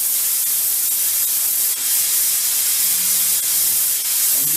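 A steam cleaner with injection shut off sprays dry steam only, giving a bright, continuous hiss that stays loud and close throughout, with a few faint low tones underneath and no voices.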